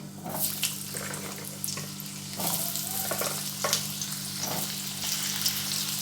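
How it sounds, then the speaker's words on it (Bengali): Potatoes drop into hot oil in a wok over fried five-spice seeds and dry chilli, giving a steady close sizzle with a few sharper crackles and scrapes, no voice heard. "এবার আলুগুলো দিয়ে দিচ্ছি"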